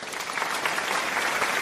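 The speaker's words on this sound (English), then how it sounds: "The much-deserved applause" A brief burst of applause from a crowd, dense clapping that stays steady and fairly loud, with no talking.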